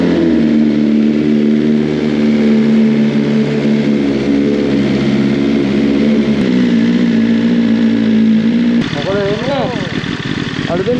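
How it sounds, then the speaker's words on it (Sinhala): A BMW S1000RR motorcycle engine on a cold start, holding a loud, steady, high idle rumble close by for several seconds, then dropping lower before sharp revving blips near the end. "එහෙනම් අපි යන් කෝල්ඩ් ස්ටාර්ට් එකකට."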